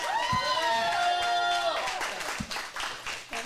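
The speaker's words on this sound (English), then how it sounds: "Let's give a big round of applause for" Audience applause at an adult comedy acting showcase, a dense wash of clapping that runs throughout, with a sustained tonal sound layered over the first half.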